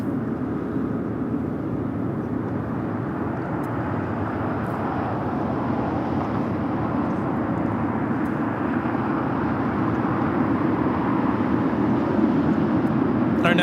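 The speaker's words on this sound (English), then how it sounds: "Our next arrival, United 33 787-9 Dreamliner coming in from Tokyo Narita." A United Boeing 787-9 Dreamliner arriving at Los Angeles LAX from Tokyo Narita gives a steady, broad jet roar that holds at an even level throughout, with faint voices in the background.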